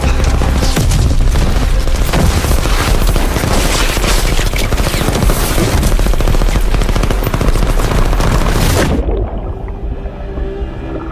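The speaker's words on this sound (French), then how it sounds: "dites mitrailleuse active." Sustained machine gun fire in a French-dialogue war action film, a dense, loud, continuous burst of automatic rounds mixed with booming blasts for about nine seconds, then cutting off abruptly to a low rumbling quiet.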